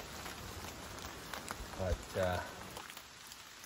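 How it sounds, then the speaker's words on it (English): Rain patters steadily on foliage and ground outdoors during a blacktail deer hunt on Texada Island, a soft continuous hiss with a few brief faint voice sounds over it. "It's starting to rain."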